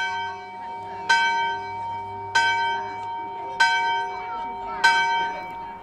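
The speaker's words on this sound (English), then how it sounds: "The bell is rung simply by pulling on a lever attached to the headstock." A large church bell at Ripley, rung by pulling a lever on the headstock, strikes four loud clangs about every 1.2 seconds, each ringing out with a long humming decay over a low background drone.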